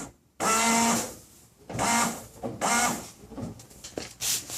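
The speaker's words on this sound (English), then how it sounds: "Let me give the pump a blast and see if we get any leaks after that." A windshield washer pump on a 1995 Toyota Tacoma runs in three short bursts, each a loud electric whir with a hiss of fluid spraying, separated by brief pauses.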